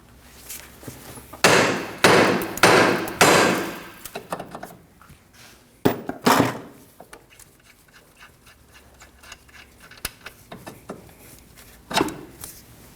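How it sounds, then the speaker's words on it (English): Loud hammer blows ring out on the metal steering knuckle of a 2003-2006 Subaru Baja, a quick run of strikes followed by a few scattered single hits with quiet pauses between. "strike the end of the knuckle with a hammer"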